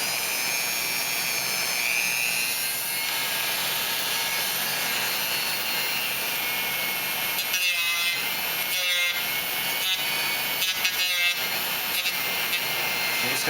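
Rotary tool running at low speed, grinding and rubbing away sprue nubs on a plastic hull of a 1/537 scale USS Reliant model kit, a steady high whine with scraping bursts near the end, no talk.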